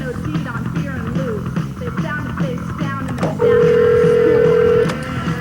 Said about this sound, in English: While I'm dialing this number